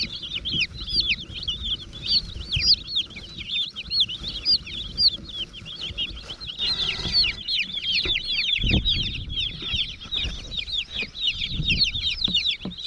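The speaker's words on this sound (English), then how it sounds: "We might need another bin just for the meat chicks." Around thirty meat chicks crowd a bin, their dense high peeping continuous throughout with occasional clucks and rustling underneath, close and lively, no talking.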